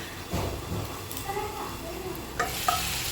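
Food sizzles in a pan on the stove with a soft, steady crackle. A few stirring knocks and clinks against the pan break through now and then, at a fairly quiet level.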